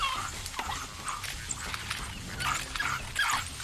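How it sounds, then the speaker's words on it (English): African wild dogs closing in on a bushbuck, giving scattered high whimpers, yips and short calls over a faint outdoor background, moderately distant. "finds itself surrounded by 3 wild dogs"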